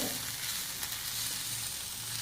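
Wheat kurdai chotha roasting in a pan gives a steady, even sizzle and crackle with soft stirring, faint and continuous throughout, with no voices.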